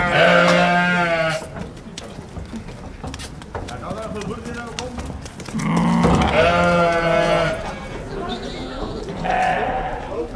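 Sheep and goats bleat repeatedly at an outdoor livestock judging show, loud and close, with several overlapping calls in bursts and a murmur of voices in between.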